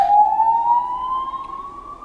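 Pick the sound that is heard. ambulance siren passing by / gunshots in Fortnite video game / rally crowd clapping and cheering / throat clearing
ambulance siren passing by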